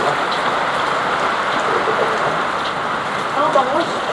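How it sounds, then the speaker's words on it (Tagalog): Heavy typhoon rain pours in a dense, constant roar, loud and close, with a faint voice briefly under it. "Yan na, yung ulan."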